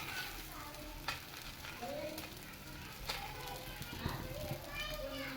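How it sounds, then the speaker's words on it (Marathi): Sabudana and water chestnut flour thalipeeth fries in oil on a tava over low gas, giving a steady sizzle with a few sharper crackles, while voices and children's chatter carry faintly in the background. "हे बघा इथे हे छान असं तव्यावर टाकून घ्यायचं आणि आता छान वरतून असं तेल सोडायचं याच्यावर"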